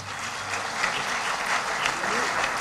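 An audience at a formal ceremony applauds a vice admiral invited to speak, steady dense clapping throughout with faint voices mixed underneath.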